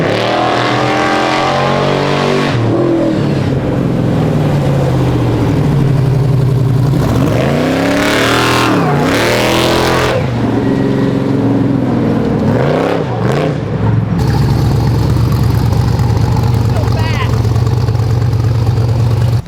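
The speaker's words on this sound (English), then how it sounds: "So they're loading up the race truck right now back on the trailer." Race truck engine roaring loudly nearby while the truck is loaded onto a trailer, with rising and falling revs and a sustained heavy drone throughout, with a voice briefly heard over it.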